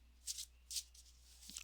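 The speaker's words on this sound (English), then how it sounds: "let's just have a quick shuffle." Tarot or oracle cards riffle and flutter in three quick, soft shuffling bursts, close and quiet against a near-silent room.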